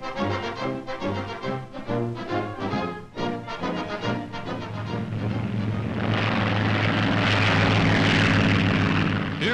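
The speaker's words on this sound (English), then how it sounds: "A rope is rigged for the oncoming plane to catch." A propeller plane drones in loud and close, its engine roar swelling as it swoops to snatch a towed glider on a rigged rope in an Army Signal Corps glider pickup test.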